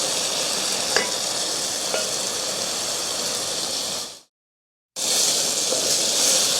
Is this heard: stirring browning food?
yes